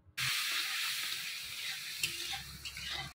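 A spice masala of tomato and green chilli with a little water sizzles steadily in a pan while being cooked down, a continuous bright hiss with a faint clink near the end.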